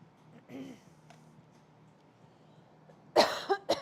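A person coughs twice near the end, sharp close bursts after a quiet stretch with a faint earlier murmur or throat sound, indoors at a table.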